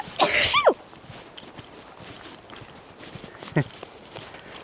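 One sharp, loud sneeze bursts out near the start of a daytime hike at Varlaxudden on Emäsalo. A much fainter short sound follows a few seconds later over quiet outdoor ambience.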